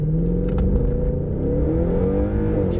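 Mercedes-Benz C63 Black Series accelerating from standstill to 70 mph at Mercedes-Benz World, heard from inside as a loud, deep engine roar with rising pitch over a heavy low rumble.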